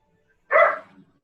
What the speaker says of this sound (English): I better check on the dogs.